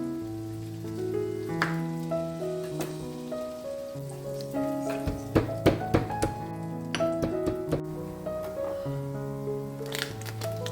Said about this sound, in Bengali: মাছগুলোকে ভালোভাবে ধুয়ে নুন হলুদ দিয়ে লাল লাল করে কড়া করে ভাজতে বসিয়ে দিলাম